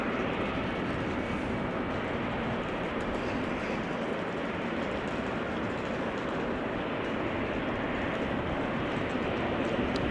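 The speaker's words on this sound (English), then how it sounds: "That is now on the move. And I believe that this is the 767-300 from United, flight 908," A United Boeing 767-300 taxiing at Amsterdam Schiphol Airport makes a steady, loud broadband jet roar that holds evenly throughout.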